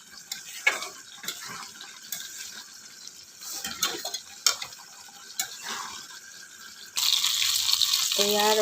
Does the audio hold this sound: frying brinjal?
yes